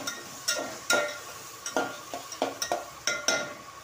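A tomato roasts in a pan, with a string of crisp spatula taps and scrapes at an uneven rhythm over a faint sizzle, close and without speech.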